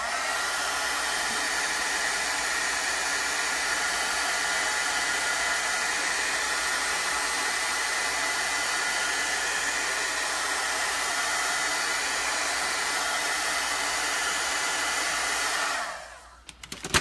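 A hair dryer blows on chalk paste drying on a gingerbread man craft, a steady loud whooshing roar that runs continuously for about sixteen seconds before cutting off abruptly.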